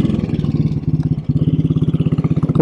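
A 1957 Royal Enfield Bullet 500 single-cylinder motorcycle engine thumps steadily while riding in first gear, a close, loud, even low pulsing beat with a brief dip midway before resuming.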